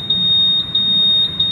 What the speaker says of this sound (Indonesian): kalau sudah di alarm seperti ini maka ada sinyal bunyi